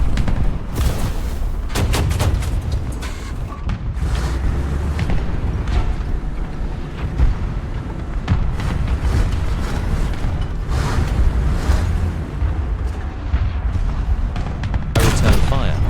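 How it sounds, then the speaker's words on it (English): Tank cannon fire in War Thunder, dense booming shots and gunfire rolling over a loud, continuous battle din with several sharp blasts throughout, heard under occasional talk. "I return fire, missing my shot the first time and breaking our barrel"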